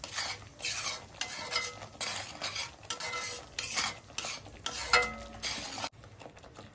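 Misal ingredients sautéed in a pan, with a utensil scraping and stirring in repeated strokes over a steady close sizzle, plus occasional metallic clinks, all without any voice.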